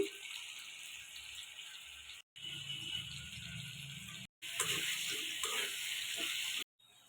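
Cumin seeds and cut potatoes sizzle in hot oil while a shrimp curry is being cooked, a steady close hiss cut by brief silences, with no talking.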